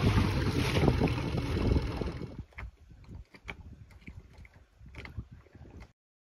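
A small dinghy outboard motor drones over rushing wind while crossing open water, then drops to quieter mechanical clicking and rattling before cutting out.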